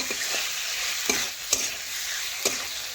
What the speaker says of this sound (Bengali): এই দেখুন লবণও ভালোভাবে আমি মিশিয়ে নিচ্ছি।